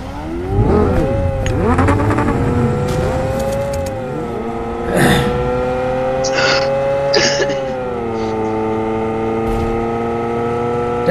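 A Lamborghini in BGMI revs and accelerates up close, its engine pitch rising and falling through gear shifts, with a few sharp clunks and a voice talking briefly over it.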